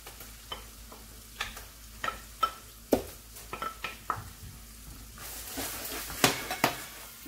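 Pilau being stirred in a pot after tomato paste and salt go in: repeated sharp spoon scrapes and clacks against the pot over a low frying sizzle, ending in a denser burst of scraping, with no voices.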